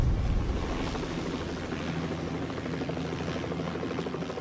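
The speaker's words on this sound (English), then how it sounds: "My chopper now." A helicopter in the game Hitman World of Assassination whirs with a steady, loud rotor drone and engine roar, constant and close with no talking.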